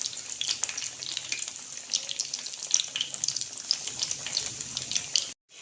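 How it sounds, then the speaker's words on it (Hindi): Bread chicken vegetable snacks fry in a pan of hot oil, a steady crackling sizzle with bright spitting pops throughout, close and fairly quiet, cutting out abruptly near the end. "तो हल्की आके हम फ्राई करेंगे दोनों साइडों से"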